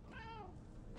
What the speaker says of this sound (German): Ein Kätzchen, oh.